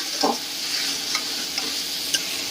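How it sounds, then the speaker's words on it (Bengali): Potatoes and spices sautéing in a pan for vetki fish curry give a loud, steady close sizzle, broken by a few scraping stirs of a spatula, with no talk. "আলুটা দিয়ে বেশ খানিকক্ষণ কষিয়ে নেওয়া হয়েছে"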